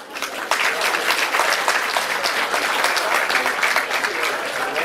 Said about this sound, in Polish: Brawa się należą.